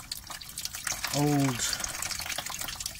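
Old antifreeze drains from the water pump hose of a VW Golf Mk1 after its clamp is undone, a steady splashing trickle of liquid heard close up, with one brief spoken word.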